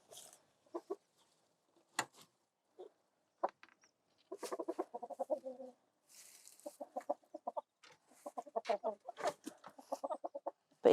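A farm rooster clucks inside its coop in short, close bursts, some runs quick and chattering, others single soft notes, with quiet pauses between and no voices.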